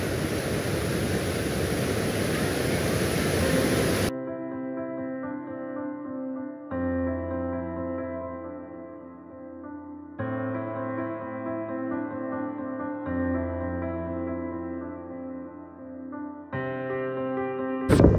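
Loud, steady rush of a waterfall at Umbarde near Nashik fills the opening four seconds, broadband and close. After that it gives way to music.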